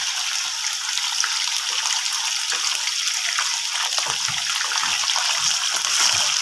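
Chicken karahi pieces, a kilogram in all, go into hot cooking oil in a karahi, giving a steady, loud sizzling hiss that runs unbroken throughout with no talking.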